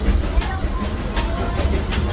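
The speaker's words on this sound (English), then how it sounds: "please wait until the train comes to a full stop" A Disneyland railroad train rolls along the tracks with steady clickety-clack and a low rumble, close and continuous, with a faint voice in the background.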